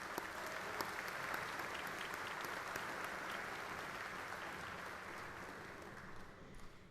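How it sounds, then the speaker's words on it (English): A large audience at a spring university commencement ceremony gives the platform party a sustained round of applause, a dense, steady roar of many hands clapping that holds evenly throughout and eases slightly near the end. "Won't you please join me in giving our platform party today a warm round of applause?"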